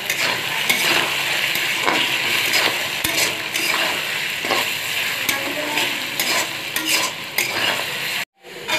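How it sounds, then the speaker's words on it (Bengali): Potatoes fry in a pan, giving a continuous loud sizzle broken by repeated scraping stirs and light utensil clinks, with a brief drop to near silence just before the end. "আমরা আলুটাকে ভালো করে একটু ভেজে নিই।"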